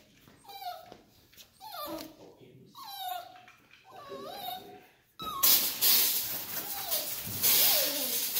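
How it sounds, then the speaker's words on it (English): Dog whining in high, wavering whimpers over the first half, then a loud hiss of water spraying off a Boss HTX V snow plow on a Jeep Wrangler with more whines heard beneath it. "You might have to listen to my dog whine."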